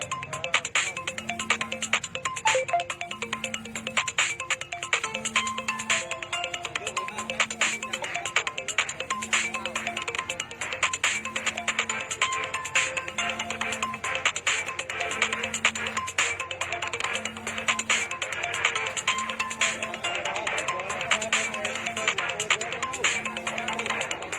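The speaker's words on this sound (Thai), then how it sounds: "มีสายเข้านะครับแต่ผมไม่ได้รับฮะเสียงอาจจะดังไปหน่อย" Mobile phone ringtone from an incoming call sounds at a Buddhist gathering in Chiang Kham, Phayao, a repeating two-note pattern pulsing steadily under continuous crowd noise and amplified talk.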